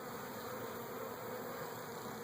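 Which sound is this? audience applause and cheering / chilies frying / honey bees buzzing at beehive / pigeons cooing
honey bees buzzing at beehive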